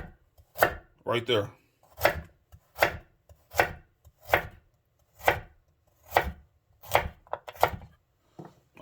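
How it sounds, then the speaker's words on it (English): Kitchen knife slicing zucchini on a cutting board with the blade guided against the knuckle, about ten crisp, evenly spaced chops close up, with a brief spoken phrase near the start. "Placing that blade up against that knuckle and slice."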